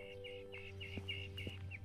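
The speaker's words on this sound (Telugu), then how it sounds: "ఒక బర్డ్ చూడండి ఎన్ని సౌండ్స్ చేస్తుందో." A small bird on a morning walk route gives a rapid series of bright, repeated chirping calls, about seven in under two seconds, clear over a low steady background hum.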